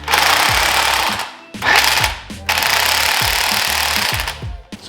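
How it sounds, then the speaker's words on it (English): A power driver runs a spring compressor on a strut from an R35 Nissan GT-R, giving loud, close bursts of rapid hammering impacts that stop briefly twice and then resume. "So we'll just do the spring compressor and start getting this disassembled."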